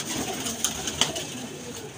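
Pigeons coo softly in low, murmuring calls, with a couple of sharp clicks or wing taps, fairly faint against a quiet outdoor background.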